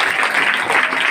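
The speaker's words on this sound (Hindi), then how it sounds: "ये स्वागत करने के लिए ताली पीट रहे हैं" Steady, dense clapping from a group of villagers welcoming guests at the inauguration of a village organisation, close and continuous with no break.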